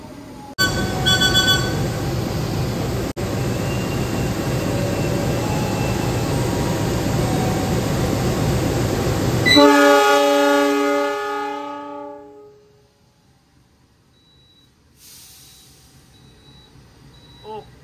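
An Argo Bromo Anggrek executive train pulls away from an Indonesian station, its loud, steady rumble and clatter giving way to rising tonal engine hum and whine before fading into quiet, with a brief faint tone near the end.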